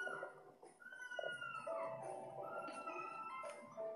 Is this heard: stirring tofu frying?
no